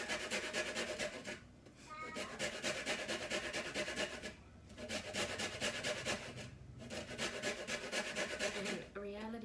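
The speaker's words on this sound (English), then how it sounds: "just get a nice amount of zest off" Lemon being zested for a Turkish spiced beef dish, a steady rasping scrape in repeated strokes with brief pauses between passes, close and fairly loud with no talking.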